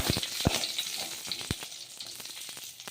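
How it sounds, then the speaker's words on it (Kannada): Eggplant pieces frying in a pan, a soft continuous sizzle with a few sharp knocks and clatters from the utensil. "ನಾನು ಹಾಗೆ ಹೋಳನ್ನ ಹಾಗೆ ಫ್ರೈ ಮಾಡತ್ತೀನಿ"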